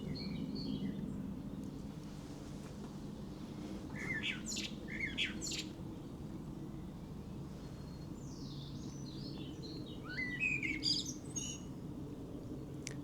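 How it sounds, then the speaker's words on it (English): A blackbird sings from a silver birch in an English garden in May, bursts of clear, fluting phrases heard at a distance over a low steady background hum. "The blackbird is singing from the silver birch up there."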